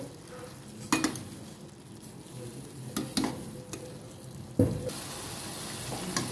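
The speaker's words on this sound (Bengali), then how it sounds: "এবার মশলাটা আমি একটু নাড়াচাড়া করে নেব ভালো করে।" Ground green chilli paste stirred in a pan over heat produces a soft sizzle broken by several sharp spatula scrapes and clanks against the metal, recorded fairly quietly.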